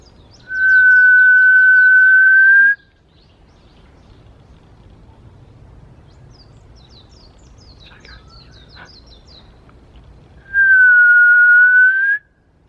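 A person whistles two sustained notes imitating a bird, several seconds apart, each bright and steady, with faint chirps from a real bird responding in between.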